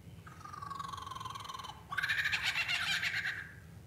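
A male bird mimics a kookaburra's song, a loud, close run of rising, cackling calls that pauses briefly and then surges into a denser, more excited burst. No one speaks over it.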